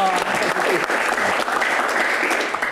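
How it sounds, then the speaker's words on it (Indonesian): Studio audience at a talk show giving a dense, continuous round of applause, loud and steady for a few seconds with faint voices beneath. "Tepuk tangan Jadi buat Pak. Refli dan Pak Tejo."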